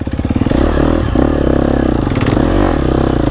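A GasGas EX250F dirt bike engine runs up close and loud, with rapid firing pulses as it revs and labours under heavy clutch slipping, its pitch rising and falling over a few seconds.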